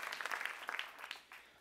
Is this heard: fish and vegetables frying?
no